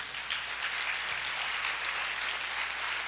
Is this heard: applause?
yes